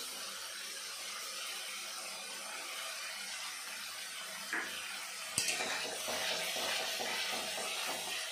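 Tomato paste and onion paste for a rohu fish curry with cauliflower sizzle softly in a pan, a steady, faint hiss broken by one sharp clink of a utensil partway through.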